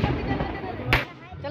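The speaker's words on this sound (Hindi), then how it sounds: "वहाँ जलाओ, देखे दोस्त पटाखा फूटेगा।" A single firecracker bursts with a sharp, close crack at a Chhath Puja gathering beside a pond in Ranchi, set against a busy crowd murmur.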